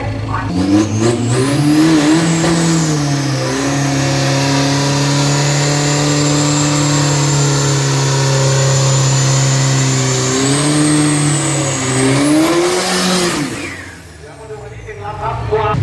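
Ford Mazda open-class drag race car with an ACT4 engine making a run, its engine screaming loudly and continuously with rising pitch through shifts before cutting off near the end, close up.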